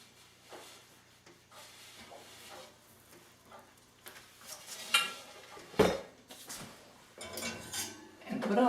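A gluten-free bread loaf rolled into a hot enameled cast iron French oven gives soft rubbing and bumping, then a sharp metallic clank and a few lighter knocks near the end, close and fairly quiet.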